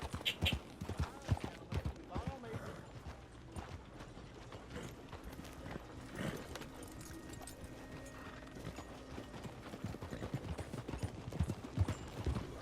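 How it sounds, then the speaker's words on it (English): Steady clip-clop of horse hooves trotting at a brisk, even rhythm in the video game Red Dead Redemption 2, fairly close, with faint mechanical clicks in the background. "Is that a horse?"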